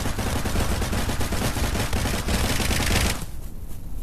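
Rapid gunfire in a Roblox VR video game, a loud dense burst of repeated shots lasting about three seconds before cutting off into a quieter tail.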